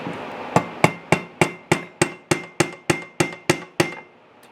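A dozen sharp hammer blows on metal, forging a sword, ring out at a steady, even pace, each with a short ringing decay, close and loud.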